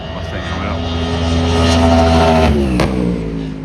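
IMSA race cars, among them a Lexus and a Mustang, roar loudly past at Watkins Glen, engines droning in a sustained high-revving howl with a pitch shift as one passes close by, voices faintly mixed in.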